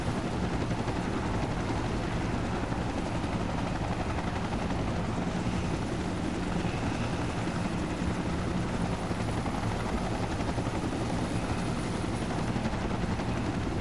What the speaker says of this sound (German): Der Rest von uns wird gerade per Helikopter eingeflogen.